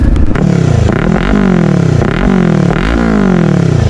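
A Kawasaki 400cc motorcycle engine revving hard on a test ride, loud and close, with repeated rising pitch sweeps as it climbs through the gears.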